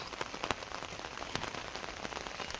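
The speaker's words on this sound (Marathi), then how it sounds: "पाऊस सुरू झाला आहे" Steady monsoon rain in Mumbai pattering on a surface close by, a dense continuous hiss with scattered louder drops, no voices.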